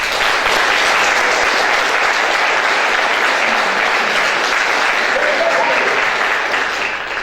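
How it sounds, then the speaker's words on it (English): An Oxford lecture audience breaks into sustained applause, a loud, dense sheet of clapping that stays full for several seconds before easing slightly at the end, with faint voices mixed in. "I think a huge round of applause for them"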